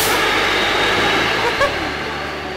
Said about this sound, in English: So here we are at the Winchester train station